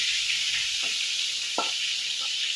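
Sliced shallots fry in hot oil for a crispy Thai topping, giving a steady, bright sizzle throughout with a few soft knocks of stirring.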